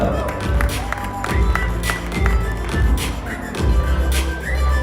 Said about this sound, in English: huge round of applause for Hiral and Parth